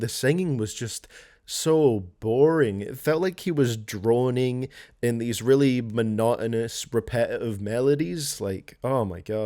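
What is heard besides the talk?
None of the usual background noises is heard.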